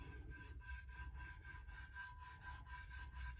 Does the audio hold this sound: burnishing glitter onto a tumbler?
yes